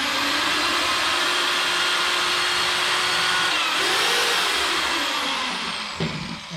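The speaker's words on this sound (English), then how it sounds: "now I'm going to drill a hole" A power drill bores a hole in wood, whirring steadily and loudly at close range, its pitch shifting slightly before it winds down near the end.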